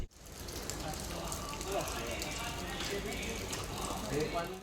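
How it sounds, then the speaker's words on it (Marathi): Light drizzle falls in a steady, soft patter heard up close, with no one speaking; the broadband hiss could also be traffic or engine noise. "चला पाउस पण पडता बारीक बारीक"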